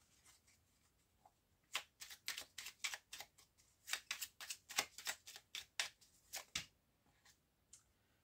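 Tarot cards are shuffled nearby in a quiet room, a close series of crisp, rapid riffling bursts in an uneven rhythm that starts softly, builds and then trails off.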